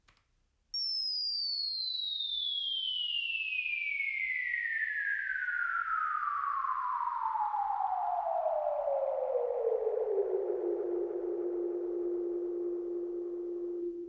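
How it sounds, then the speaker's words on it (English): Psytrance synth atmosphere pad opening on a bright high tone that glides steadily downward in pitch over about ten seconds, then settles on a sustained low note, loud and continuous with no voices. "this final one over here, which is that pitch sliding one."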